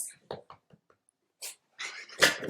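A dog whimpers and whines in short, soft bursts with breathy sniffs, rising to a louder high-pitched whine near the end.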